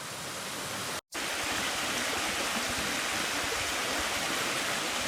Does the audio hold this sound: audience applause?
no